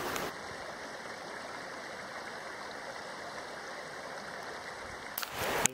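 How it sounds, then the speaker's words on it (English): A river rushes in the Alaskan backcountry on the Kenai Peninsula, a steady close wash of flowing water that holds unbroken and ends with a brief rustle. "I just want to say I apologize for all the sounds of the river."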